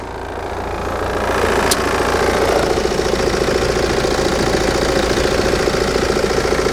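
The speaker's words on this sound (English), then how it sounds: "Very soft sounding engine, despite the fact that it's a diesel." A BMW 3 Series diesel idles steadily with the bonnet open, a soft, even mid-range engine hum that rises over the first second and then holds constant and fairly close.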